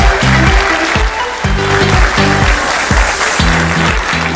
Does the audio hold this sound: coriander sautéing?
no